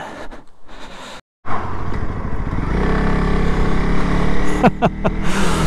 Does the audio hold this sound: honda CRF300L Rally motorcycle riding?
yes